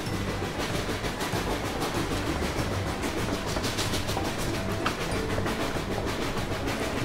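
A toy train runs along its track with a steady rhythmic clicking and a continuous mechanical whir.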